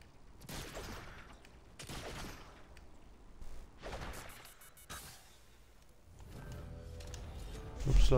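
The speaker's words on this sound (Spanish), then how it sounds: "¿Escuchaste los demás disparos" Bursts of Fortnite gunfire crack out in several volleys with swishing effects between them, ending in a louder blast.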